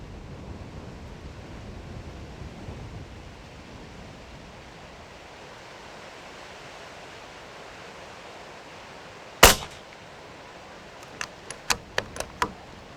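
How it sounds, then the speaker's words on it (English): An air rifle without a moderator fires one sharp crack, then a quick series of several more snapping shots a couple of seconds later, over a steady outdoor wind-like hiss. "I'm going to take like 5 shots and then we're going to put the moderator on"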